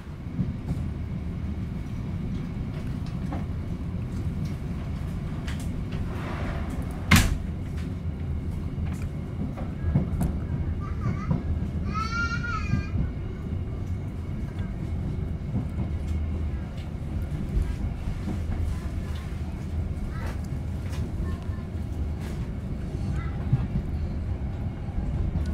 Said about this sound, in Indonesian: kereta api Tegal Bahari tiba dan berhenti kembali di stasiun Cikarang